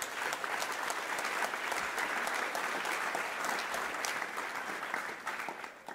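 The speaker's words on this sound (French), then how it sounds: "je souhaiterais que vous applaudissiez Rebecca" An audience applauds Rebecca at a plenary session of Ose Ton Futur 2022, with steady, dense clapping that stays even throughout and tapers slightly at the very end.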